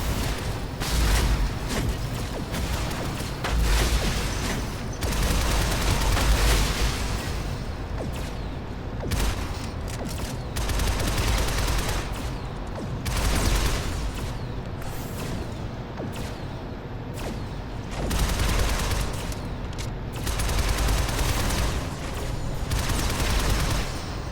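Sustained gunfire from the video game Shadow Complex Remastered as the player opens fire from atop a box, with dense rapid bursts and booming blasts rolling on continuously, pausing only briefly.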